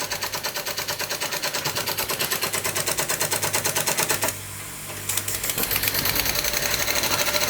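A Czechoslovakian Ites model steam engine runs steadily up close, with a fast, even mechanical chuff and clatter; it dips to a brief near-silence partway through before the rapid beat resumes.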